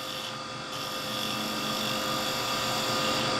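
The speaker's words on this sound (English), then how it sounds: "And you're shearing wood, so you should be pulling off shavings as opposed to dust." A wood lathe spins while a chisel shears a figured wood blank being turned into a chisel handle. It makes a steady close mechanical hum with a rough, rising cutting hiss.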